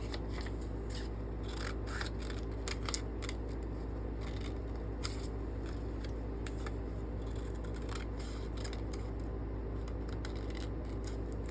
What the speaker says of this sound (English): We'll cut them from the hem up to the dart tip.